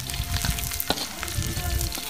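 Chili and garlic frying in hot oil in a Yunnan village kitchen, making a close, loud, crackling sizzle with quick pops and spatters.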